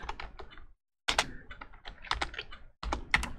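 Rapid computer keyboard typing while searching in a modded Minecraft game, with crisp close key clicks in quick bursts broken by short pauses.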